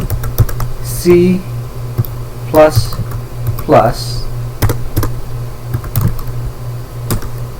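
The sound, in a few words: typing on a computer keyboard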